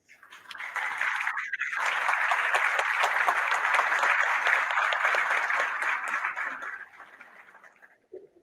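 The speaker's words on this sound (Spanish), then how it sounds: "Recibimos, por supuesto, al doctor con un fuerte aplauso" A conference audience gives a loud round of applause to welcome an anti-corruption official, the clapping rising quickly, holding steady for several seconds, then tapering off near the end.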